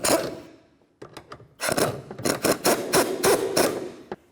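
New strut tower bolts are snugged down on a 2005-2012 Volvo S40 with a ratchet, giving a run of rapid, close metallic clicks in short bursts after a brief pause.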